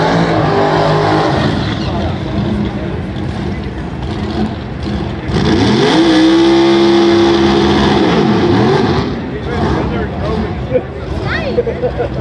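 Street-racing cars in a no-prep outlaw event launch down a street, loud engines roaring and revving hard as they pull away, with crowd babble and speech underneath throughout.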